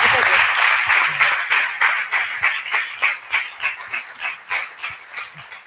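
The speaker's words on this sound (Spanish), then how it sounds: "Así que un fuerte aplauso para Marcelo Rosado." An audience bursts into loud applause for an Olympic bronze-medal athlete, dense clapping that gradually thins into slower, rhythmic pulses as it fades.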